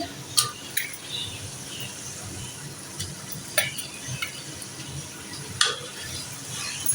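Cubes of chicken, about 250 grams, sizzling and frying in a pan while being stirred, with scraping utensil clicks and clatter at intervals over a steady crackle, no talking.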